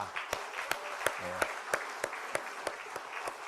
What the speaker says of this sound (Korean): 자, 우리 뜨거운 박수 한번 해드립니다.